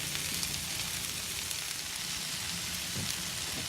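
Peppers and onions grilling on a tailgate grill give off a steady, even sizzle and crackle that is moderately loud and close. The sizzle runs continuously with no talking.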